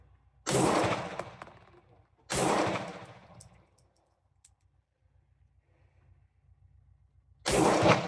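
A Star BM pistol with a new recoil spring malfunctions and bump fires, giving three loud bursts of rapid gunfire, each about a second long with a decaying tail, separated by quiet gaps.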